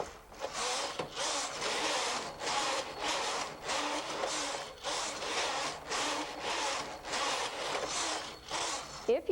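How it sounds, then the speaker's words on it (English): The lace carriage of a Brother KH-930 knitting machine makes repeated rasping, sliding strokes close by as it passes back and forth across the needle bed in an even rhythm. "With the lace carriage, I will now lace."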